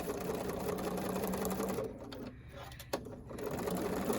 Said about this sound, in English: Notice I start stitching at the edge of the template.